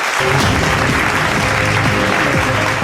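Loud, sustained applause from a large crowd at an awards ceremony honoring Indian soldiers, a dense wash of clapping that continues without pause.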